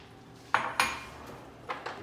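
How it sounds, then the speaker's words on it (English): Pieces of carrot and potato clatter into a metal pot of beef stew in a few close, sharp knocks and thuds, spaced unevenly over a quiet background. "So now we add our carrots and our potatoes."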